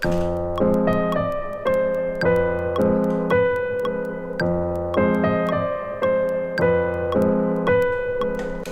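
Keyboard melody of a beat remake played on Addictive Keys, a repeating pattern of bright sustained notes over a steady low line, loud and close with no voices.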